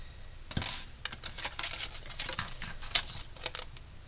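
Paper pieces being snipped with scissors for a handmade Mother's Day card, a rapid run of close, crisp cuts and rustles with one sharper snip near the middle, no talking.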